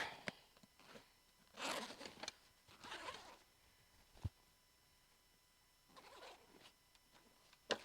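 Several short zipper pulls on a backpack rasp quietly in separate bursts, with small clicks and handling noises between them in a quiet room.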